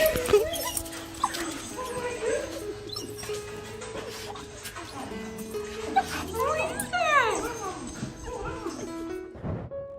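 Two dogs greet their owner as he returns home from the military, yipping, whimpering and barking excitedly in close bursts, with squeaky whines and a person's voice mixed in.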